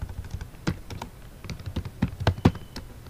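Close keystrokes on a computer keyboard while writing CSS code, irregular bursts of crisp taps with a few heavier clacks, quickening toward the end with no talk.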